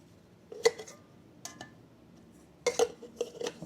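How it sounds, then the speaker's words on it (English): Metal clinks and rattles as an alcohol stove is tipped out of a small cook pot, a few light separate knocks then a cluster of clattering taps, close and quiet. "So I'm going to dump out my alcohol stove."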